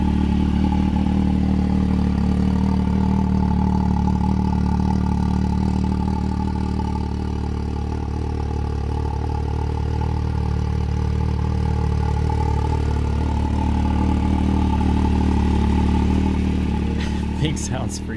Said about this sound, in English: The stock exhaust note sounds very similar to previous year models